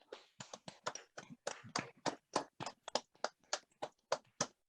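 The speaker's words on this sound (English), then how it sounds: "please give an enormous applause to Mr. Michael McDonough" A lone pair of hands claps about twenty times in a quick, fairly even rhythm, faint and close, for a presenter in an online meeting, with no one talking over it.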